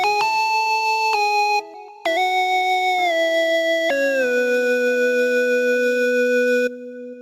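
A pure, whistle-like sine-wave synth lead from a song plays a melody of sustained stepped notes, bright and steady, with a brief pause midway before resuming and then cutting off.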